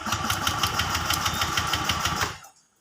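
Honda Vario 125 FI scooter with carbon deposits in the combustion chamber, engine cranking and running with a steady, fast rattling pulse close up, then cutting out abruptly into silence.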